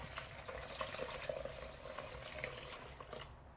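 Water pours steadily into a pot on low heat while making cream soap, a continuous splashing trickle close by with no talking.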